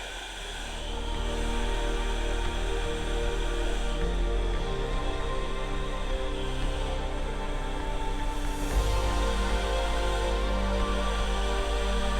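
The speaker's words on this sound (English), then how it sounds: "That hissing noise you can hear in the background is the rebreather divers on their sea scooters" A steady, continuous hiss with a low mechanical drone runs throughout, constant in level, from rebreather divers on sea scooters underwater at an inland dive site.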